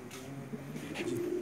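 Pigeons on a loft roof coo softly and close by, with low murmuring calls over quiet background and no talking.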